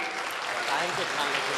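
Audience at an Eid Milan mushaira in Gandhi Bhawan, Lucknow, breaks into dense, loud applause that runs unbroken with a faint murmur of voices beneath.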